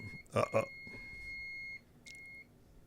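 A Nortec 600 eddy current flaw detector's alarm: a steady electronic beep tone sounds for over a second, stops, then briefly returns, preceded by a couple of short thumping noises.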